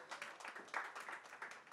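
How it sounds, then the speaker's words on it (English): An audience applauds at a book launch event, a short burst of scattered, moderately distant hand clapping, fairly faint with no voices over it. "a huge round of applause."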